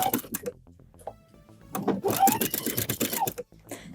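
A sewing machine back-stitches lace onto a pair of women's underwear briefs in short, loud, close-up whirring runs, pausing between bursts before a longer stretch of rapid stitching.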